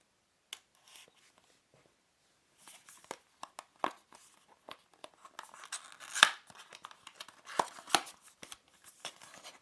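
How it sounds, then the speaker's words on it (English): Seal on a Rokerworld R1 earphone box being cut open, a sparse series of close, crisp snips and small tearing crackles after a quiet start, growing busier toward the end with no talking. "let's go ahead and open up the box by cutting open this seal right here"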